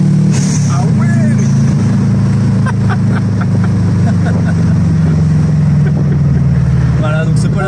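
Engine of a 2003 Subaru WRX revving and pulling hard, a loud steady low drone that fills the whole stretch with slight pitch rise, voices talking faintly over it.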